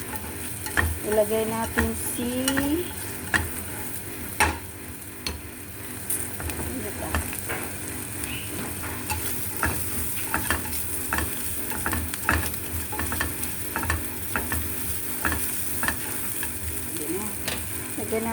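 Onions sizzle steadily in a hot pan while a spatula scrapes and clatters against the metal in irregular strokes, and a voice talks intermittently over the frying.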